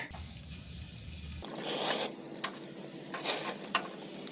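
A steak cooking rare with a meat thermometer probe inserted, a quiet hum giving way to loud close sizzling and hissing bursts, with brief sharp crackles spaced through the rest.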